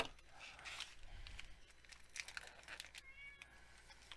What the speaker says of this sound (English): You be quiet, big mouth. That cat sometimes.